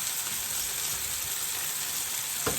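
Steaks frying in a hot pan, a steady close hiss and sizzle with a small clink near the end.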